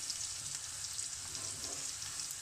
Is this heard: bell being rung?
no